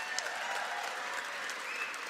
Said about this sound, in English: another round of applause for David Hurd